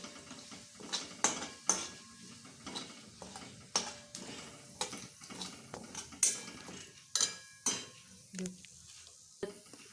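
A spoon stirs and scrapes red chili powder and coriander powder into kachori filling in a pan, with repeated clinks and scraping strokes at an irregular rhythm, close and fairly quiet.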